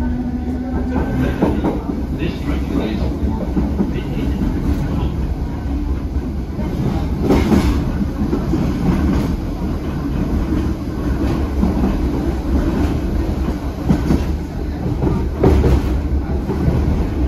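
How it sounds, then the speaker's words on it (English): An Irish Rail Class 8100 electric multiple unit rolls steadily along the rails, rumbling low with rhythmic clacks and occasional sharp bangs from the track, heard up close from inside. "so you can hear every crack and bang on the rails"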